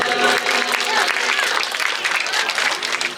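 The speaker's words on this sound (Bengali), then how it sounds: "করতালি দিয়ে উৎসাহিত করি আমরা সবাই, জোরে করতালি" Loud, sustained applause from a crowd at a school farewell event for a graduating batch, dense clapping holding steady throughout with a slight dip near the end.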